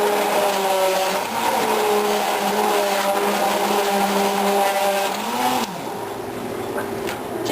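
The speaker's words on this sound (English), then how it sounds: "the stick blender one more time." Stick blender whirring through cream of broccoli soup, a loud, steady motor whine with shifting tone for several seconds, then dropping slightly in level near the end.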